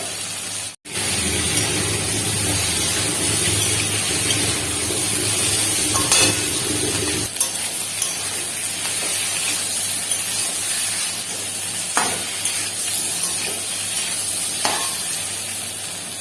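Fried potato and cauliflower are stirred into cooked spice paste in a pan: a continuous close sizzle with scraping and occasional utensil clinks, after a short break near the start.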